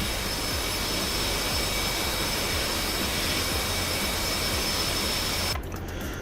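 F/A-18 Hornet jet engine roaring in a flight video game, a loud continuous whine and rumble that drops off abruptly near the end, no talking.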